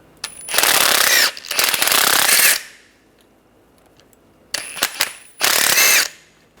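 A ratchet with a 13mm socket turns a nut off a 2005–2007 Ford Five Hundred. Close, loud bursts of rapid clicking come in several separate runs with short quiet gaps between them.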